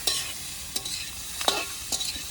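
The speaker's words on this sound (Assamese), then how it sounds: "গাহৰিটো অকণমান ভাজি লওঁ, গাহৰিটো তেলটো এৰি দিয়ক" Pork fries in hot oil, giving a continuous close sizzle with several scraping stirs spaced about half a second apart.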